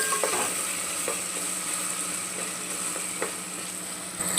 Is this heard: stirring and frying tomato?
yes